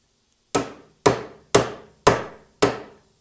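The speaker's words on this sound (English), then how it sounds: "peen hammer and just tapping" Five sharp metallic taps from a ball peen hammer on a socket, seating a steering shaft part on a 1967 Porsche 911, evenly spaced about half a second apart, close and crisp with short ringing decays.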